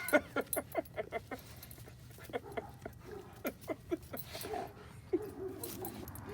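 A dog gives a rapid series of short yips and whimpers, close by, with a few bursts in quick succession over faint background noise.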